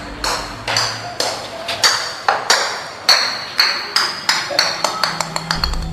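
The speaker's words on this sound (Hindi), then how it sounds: "ऊपर से एक बॉल गिरते हुए नीचे आया" A ball drops down a staircase, bouncing step after step in a quickening series of sharp bright pings and knocks that grow closer together, loud and near, as an effect in a horror story.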